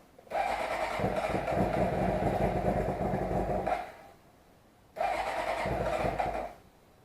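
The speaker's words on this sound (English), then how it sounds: "So it's going to be kind of rough starting." A motorcycle engine, run for winterizing, cranks and catches roughly, running unevenly for a few seconds, cutting out, then sputtering back to life briefly before stopping.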